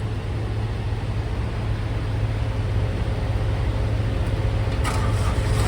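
The auxiliary power unit engine on a hotshot truck runs steadily, a loud, close, constant low drone and hum with no break.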